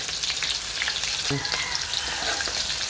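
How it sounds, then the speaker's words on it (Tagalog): Onions added to oil in a frying pan while sautéing for shrimp paste, giving a steady close hiss of frying with a brief clink partway through. "ilalagay na natin ang sibuyas, libumbay"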